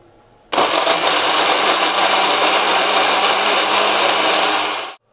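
A blender grinding spices whirs at full power in one loud, steady roar for about four seconds, then cuts off abruptly.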